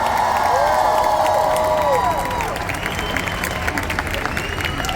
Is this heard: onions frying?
no